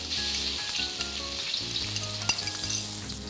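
Garlic and chili sizzle and crackle steadily in vegetable oil in a hot wok, with occasional scraping and stirring clinks and a low background hum; no talking.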